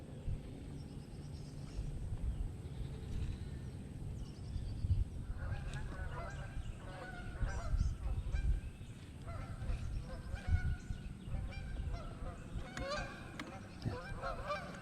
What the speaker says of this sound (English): Watch them geese now.